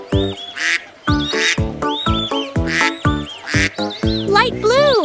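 Cartoon ducks quack in a repeated rhythmic run of short, bright calls over a children's nursery song with music, closing with rising chirpy swoops.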